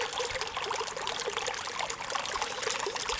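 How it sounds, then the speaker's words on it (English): A small trickle of water spills off a rock at Vasquez Rocks, a steady, close splashing patter that runs unbroken throughout with no voices. "Just that little bit of water and a little bit of fall off the rock"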